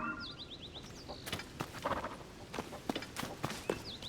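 Light, rapid hoof clip-clops from a horse galloping in The Legend of Zelda: Tears of the Kingdom patter steadily and faintly, with a few bird chirps above them and no talking.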